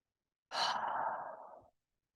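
A single deep breath is taken during a guided meditation. It is one long, close, airy inhalation lasting just over a second in otherwise silent surroundings.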